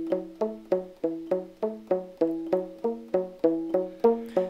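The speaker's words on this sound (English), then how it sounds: "when I place my palm on the strings and play the same thing," Palm-muted banjo picking a quick even pattern, each note plucked with a crisp attack that dies away quickly, quieter and drier than open playing, close up with no talking.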